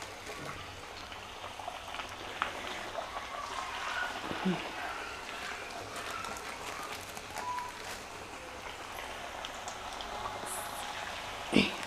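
Alasanda chekkalu, crisp black-eyed pea snacks, fry in hot oil over medium heat. A steady, soft sizzling crackle runs throughout, with scattered small pops.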